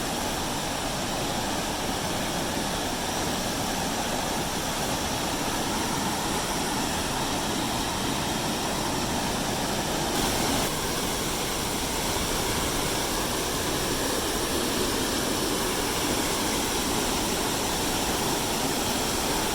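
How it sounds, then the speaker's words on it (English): A steady, loud roar of rushing water fills the whole stretch without a break, like a powerful waterfall heard up close, in Oregon. "Waterfalls on this hike rage and blow buckets of mist at you in the wet season."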